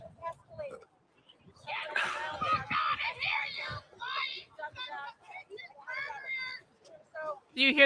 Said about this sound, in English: Do you hear that woman screaming in the background?